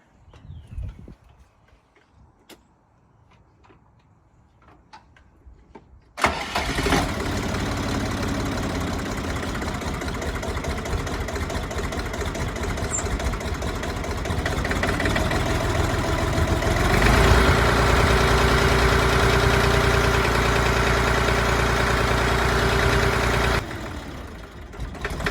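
After a few seconds of quiet, a Siromer 304 tractor engine, just bled of air in its fuel system, abruptly starts and settles into a steady, loud, knocking idle that runs evenly for about seventeen seconds before cutting off, with no talking.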